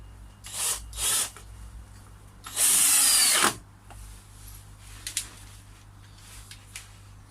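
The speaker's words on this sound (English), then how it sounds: "We'll start at the bottom, put the screws in." A power drill drives screws into the wooden frame of a koi pond, with a couple of short bursts followed by one longer, loud whine, then quiet ticks and handling noises outdoors.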